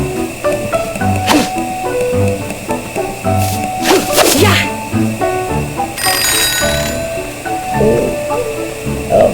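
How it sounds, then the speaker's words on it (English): A small chiming alarm bell rings in the video game Wanderstop, bright repeated metallic strikes over gentle melodic game music, with sharp clacks and a shimmering jingle near the end. "That's what that little alarm bell is."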